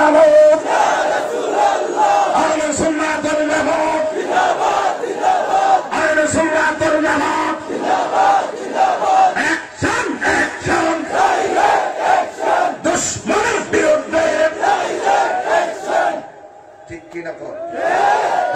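A large crowd at a religious sermon gathering chants a slogan back in unison, a loud, roaring mass of voices rising and falling in repeated bursts, with a leader's amplified voice in between. It drops off near the end.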